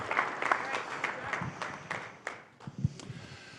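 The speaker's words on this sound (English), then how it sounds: "How about another round of applause for Aaron Davis?" Audience applause at a state high school athletic association legislative council meeting, a scattered patter of claps thinning after a few seconds with some voices mixed in.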